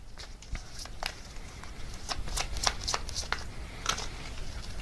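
Tarot cards are shuffled by hand, producing a continuous soft riffling with many sharp crisp snaps and flicks scattered throughout, close and fairly quiet.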